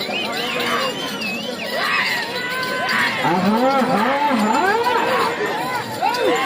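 A crowd at a bull cart competition shouts and cheers loudly and continuously, with many excited voices overlapping and rising in waves, close and dense.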